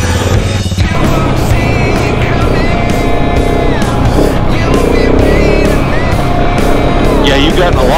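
KTM 690 and Husqvarna 701 motorcycles ride off-road on Colorado mountain trails around Penrose and Skyline Drive. A loud, continuous engine roar rises and falls with throttle under heavy wind buffeting, and voices talk over it.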